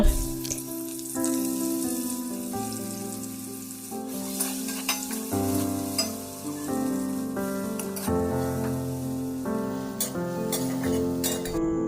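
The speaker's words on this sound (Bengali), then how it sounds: "এবার পেঁয়াজ কুচিগুলি দিয়ে ভেজে নেব।" Chopped onions fry in a little hot oil in a wok for a mushroom dish, giving a steady sizzle beneath loud background music.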